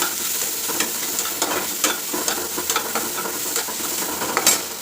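Onions with salt frying in a pan, a steady sizzle broken by scraping stirring strokes and occasional spatula clicks, close and moderately loud, with no talking.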